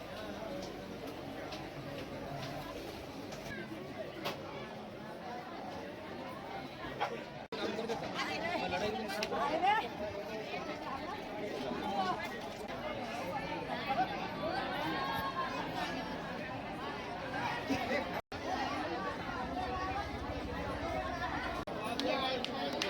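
Dense crowd chatter fills the courtyard of Sailani Baba Dargah, a steady murmur of many voices mixed with scattered nearby calls and shuffling, holding a constant level throughout.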